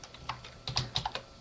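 Quick bursts of keystrokes on a computer keyboard, a handful of light, uneven clicks close by and fairly quiet, with no talking.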